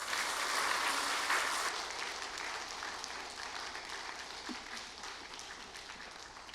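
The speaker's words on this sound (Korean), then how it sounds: "박수로 우리 환영하겠습니다" Steady applause from a church congregation welcoming a guest pastor and professor, loudest at the start and then holding as a dense, even patter of many hands filling the room.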